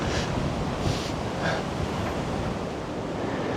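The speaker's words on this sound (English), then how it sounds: "I feel like this is the first time I felt wind in the city." Wind blows across a rooftop garden among city skyscrapers as a steady, loud, rushing roar that buffets the microphone throughout, with a few slightly stronger gusts.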